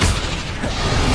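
The Bombarda explosion spell from the video game Hogwarts Legacy goes off as a loud, dense burst that fills the whole short moment with a booming blast.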